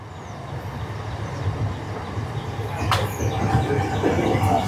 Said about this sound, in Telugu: మీరు చూడొచ్చు వెనకాల రైలు కూడా వెళ్తుంది